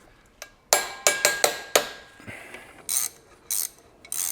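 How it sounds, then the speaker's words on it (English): A digital torque wrench tightens bolts on an E46 M3 gearbox, giving a close, sharp burst of ratcheting clicks followed by spaced metallic ticks and short rattles, with no talking. "Gotta use my digital torque wrench here."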